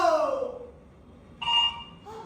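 A telephone rings in two short electronic bursts after a quiet stretch, set against a low background hum.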